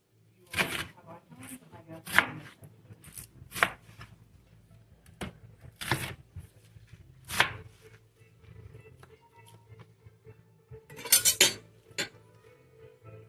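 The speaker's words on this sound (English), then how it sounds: "we're going to slice up the onion" Knife slicing an onion on a cutting board in a home kitchen, a series of sharp irregular chops and clicks spaced a second or two apart, with quiet handling sounds between them.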